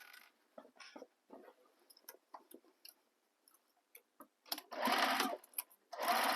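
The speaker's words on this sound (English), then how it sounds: "Now I'm going to stitch from the previous stitching all the way across." A sewing machine stitches across a bag seam in short bursts at first, then runs in two longer, loud continuous stretches near the end.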